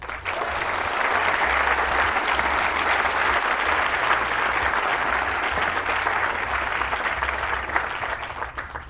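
Sustained, dense applause from a live audience welcoming a panel of speakers at a public debate on populism, steady and loud for the full nine seconds with no pause.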